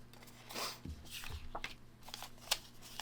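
Scissors trim a fabric quilt piece with a few quiet snips and rustles of cloth over a low steady hum, faint and close.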